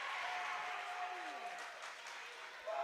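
A high school student section at a Dodgeland at Oakfield volleyball match cheers and applauds after an ace, a steady wash of clapping and crowd noise at a distance, fairly faint and continuous.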